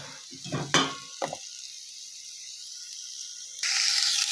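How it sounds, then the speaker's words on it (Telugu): Onions and whole spices fry in a pan while making spinach onion karam, giving a sizzle with a few stirring scrapes and clatters early on, then a quieter steady hiss and a brighter burst of sizzling near the end. "మన మసాలా దినుసులను నేను అదే ప్యాన్‌లో కట్ చేసుకున్న ఉల్లిపాయలు ఉన్నాయి కదా! అవి కూడా వేసి వేయించుకుంటున్నాను."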